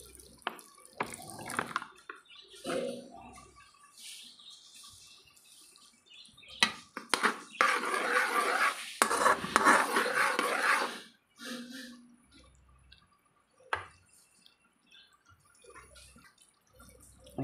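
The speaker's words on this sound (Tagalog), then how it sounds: "Tapos maglalagay rin ako ng vinegar." Vinegar is poured into a pork dish as it cooks, making a close, gentle trickling splash that builds for a few seconds before tapering into scattered drips and quiet.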